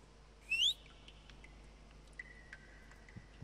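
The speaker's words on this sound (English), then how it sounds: "Oh, I didn't mean to whistle." A player whistles in the Roblox horror game Apeirophobia: one short, bright rising whistle near the start, then a faint, thin steady tone trailing later over quiet background hiss.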